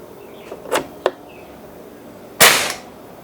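A sharp burst at the end from a Mauser PCP air rifle shot, loud and close, preceded by a few softer clicks and taps.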